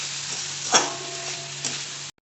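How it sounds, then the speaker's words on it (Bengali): Vegetables with tomato and salt fry in a pan, sending out a steady, fairly quiet sizzle punctuated by two sharper stirring scrapes before the sound cuts off abruptly. "একবারে নুনটা দিয়ে আমি ভাজবো যাতে সবজিগুলো একবারে নরম হয়ে যায়।"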